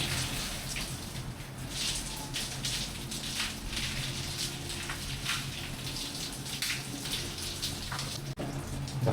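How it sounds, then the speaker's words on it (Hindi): Cold water runs steadily from a shower in a gym, a continuous hissing spray with scattered splashes throughout, close and unbroken, with no voices. "भाई साहब इतना ठंडा पानी आ रहा है इसके अंदर, पूछो मत।"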